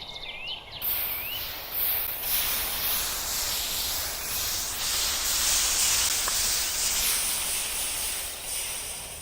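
Steady, loud hiss of hot copper tools being cooled in Minecraft, continuous and even throughout with a brief higher tone near the start.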